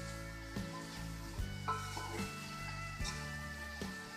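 Vegetables frying in a wok for chowmein while being stirred, a continuous sizzle broken by repeated scraping stirs at an uneven rhythm, close and moderately quiet.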